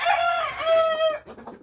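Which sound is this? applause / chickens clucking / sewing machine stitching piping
chickens clucking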